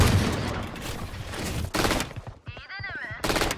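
Rapid automatic gunfire bursts ring out in a shooter video game, loud and dense, broken by short pauses and a brief warbling electronic effect before the shooting resumes.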